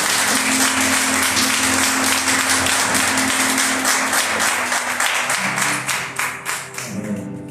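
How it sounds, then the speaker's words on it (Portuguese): A church congregation gives a sustained round of applause during a morning service, loud, dense clapping that carries on for several seconds over a low musical hum before thinning into scattered claps. "Uma salva de palmas para o Senhor Jesus."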